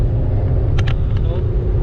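Loud, steady road and engine drone inside a 2020 Honda WR-V BS6 facelift cruising at 120 km/h on a highway, with brief faint noises from the cabin partway through.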